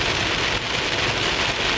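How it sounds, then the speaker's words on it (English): Steady rain falls throughout during a springtime thunderstorm, a dense, even hiss of drops on surfaces, loud and close with no pauses and no voices. "Hopefully this rain clears up."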